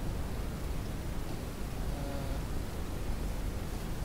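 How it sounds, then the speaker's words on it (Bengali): Rain pouring down in the ranching game Ranch Simulator, a dense, even hiss of falling drops that stays constant for a few seconds with no voices over it. "গাইস এই তো বৃষ্টিও গাইস শুরু হয়ে গেছে"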